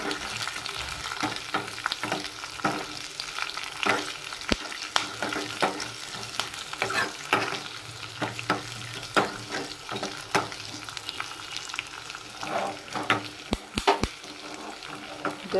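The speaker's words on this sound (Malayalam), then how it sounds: "അതുപോലെ തന്നെ രണ്ട് വറ്റൽമുളക് ഇത്രയും ചേർത്ത് നന്നായിട്ടൊന്ന് മൂപ്പിച്ചെടുക്കാം" Two dried red chillies fry in oil for a pineapple rasam, a steady close sizzle broken by frequent sharp pops and crackles throughout.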